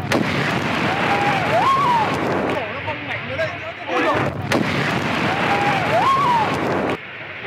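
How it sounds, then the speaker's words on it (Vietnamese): Powerful blasts boom during a fire at the Khai Sơn industrial park, where a storage tank of several thousand litres was thrown; heavy rumbling bursts repeat loudly amid crackling noise and tonal wails. "những tiếng nổ lớn phát ra khiến chiếc bồn dung tích vài nghìn lít bắn văng xa 300 mét"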